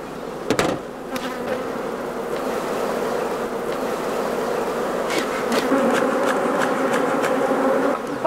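Dense, steady buzzing of many honeybees around an opened hive fills the clip, loud and close, with a few sharp knocks and taps near the start and later as frames are handled.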